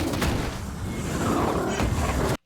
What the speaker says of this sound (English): there's a lot of gunfire here